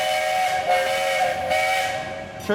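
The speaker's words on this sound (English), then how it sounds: "Train noise." A long, steady steam train whistle at Cedar Point amusement park blows with a hissing, tonal wail, fairly loud and unbroken, ending abruptly with a short clatter.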